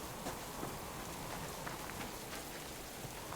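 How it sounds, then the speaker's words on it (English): Steady rain falls in the survival video game Subsistence, a soft, even hiss of drops with faint scattered taps and no clear thunder. "the rain in Subsistence is a little too frequent for my liking"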